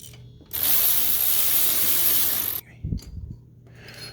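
A socket wrench or power tool breaks loose a tight 13mm bolt on the power steering pump of a 2006 Pontiac Grand Prix 3.8L: a loud, steady two-second mechanical whir, then brief ratcheting clicks and knocks.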